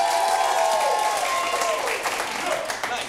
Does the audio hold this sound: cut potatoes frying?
no